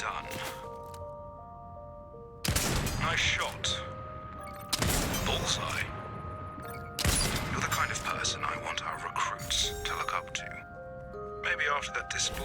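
Sniper rifle shots crack at targets in Fortnite, three or four loud sharp reports spaced a few seconds apart, each with a ringing tail, over a background of game music tones.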